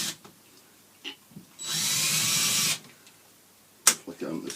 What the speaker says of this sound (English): just carry the drill when you're doing this to start with.